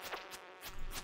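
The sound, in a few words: mosquito in the video game Stardew Valley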